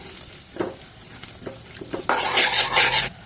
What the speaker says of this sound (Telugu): జీడిపప్పు అయితే అన్ని వేపులకి ఒకటే కలర్ వచ్చేలాగా బాగా వేపుకోండి